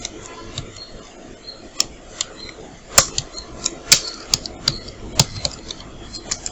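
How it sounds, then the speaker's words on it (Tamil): Typing on a computer keyboard while designing a wedding card in Photoshop, an irregular run of sharp key clicks, some louder than others, over a faint steady room hiss. "அப்படின்னு நம்ம இப்படி டைப் பண்ணி வச்சுக்கலாம்."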